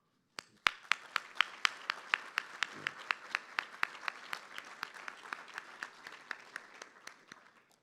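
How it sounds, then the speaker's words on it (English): An audience at a gala claps in a steady, fairly even rhythm for several seconds, with crisp individual hand claps standing out in the room before the applause gradually eases off. "I ask you to join me in a round of applause to recognize our circles of support"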